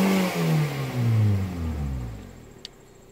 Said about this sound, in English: So let's snap our throttle.